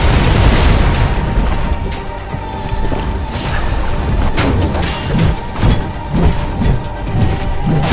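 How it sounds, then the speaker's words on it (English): Loud missile explosion in the video game Loopmancer, a dense roaring blast with repeated booming impacts and crashing debris rolling on for several seconds, no speech. "Have fun with this missile, idiot!"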